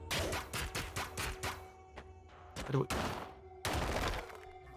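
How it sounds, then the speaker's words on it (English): In the pixel-art action game ScourgeBringer, a player shoots at walls to uncover secret rooms. Quick bursts of rapid shots are followed by a pause and then a few heavier blasts and crashes over faint game music. "You can shoot the walls!"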